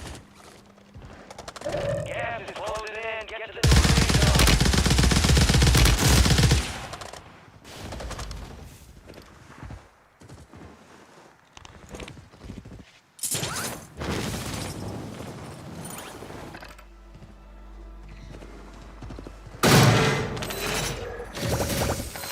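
Assault rifle gunfire in a video game comes in loud rapid bursts separated by gaps, mixed with crashes, mechanical clicks and other game sounds, with a voice talking in places.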